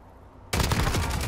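Gunfire in Call of Duty: Modern Warfare on the Rust map bursts in suddenly after a quiet moment, a loud rapid volley of shots continuing to the end.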